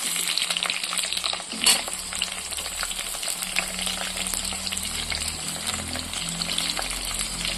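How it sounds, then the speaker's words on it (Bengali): Potato pieces frying in hot oil with cumin, a steady loud sizzle with one brief clatter near the start, crackling continuously with no talk. "প্রথমে আমি আলুগুলো ভেজে নেব।"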